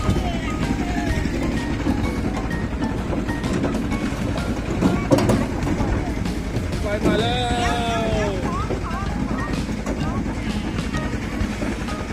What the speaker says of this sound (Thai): ไปแล้วครับรถไฟไปแล้ว